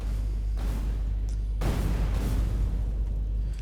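Two deep, rumbling video game explosions burst out a second apart over a constant low hum, then roll on as sustained noise.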